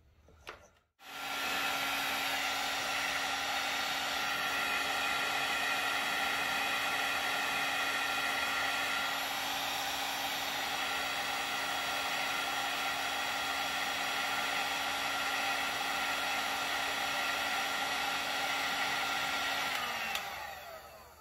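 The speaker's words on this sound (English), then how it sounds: "So I'm gonna use my trusty digital heat gun." A digital heat gun switches on with a click and blows hot air in a steady, loud whirring hiss with a constant motor tone for about twenty seconds before shutting off, with no talking.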